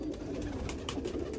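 Pigeons coo softly in a pet loft, giving low, murmuring calls over a constant dense hum of background noise, faint and close, without any talking.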